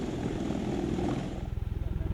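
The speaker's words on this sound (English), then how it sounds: "The engines hold vertically as the aircraft rises, the landing gear clears the ground, and the nacelles slowly rotate forward as speed builds" A V-22 Osprey tiltrotor lifting off, a low droning rotor roar that settles into rapid rhythmic blade thumping toward the end, heard with a voice talking over it.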